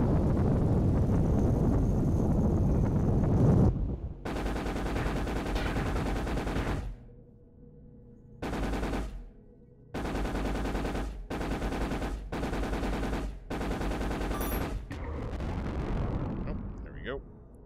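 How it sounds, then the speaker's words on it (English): Rapid bursts from 30mm guns on a fighter ship in the space combat game Exodus of Sol, loud sustained strings of fire broken into several separate bursts with short silent gaps, with brief talk in between. "I've been dying to see those 30mm guns in action, Lieutenant"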